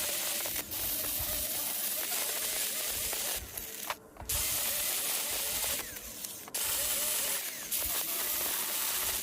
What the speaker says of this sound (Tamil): நம்ம வந்து கிரைண்டிங் பண்ணி விட்றோம் எல்லாத்தையுமே